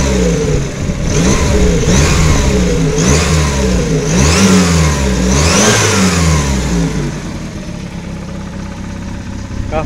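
A Volkswagen Gol's CHT gasoline engine idling close by with a steady low rumble, cold, a few brief revs rising and falling early on before it settles.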